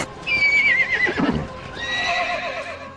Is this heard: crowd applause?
no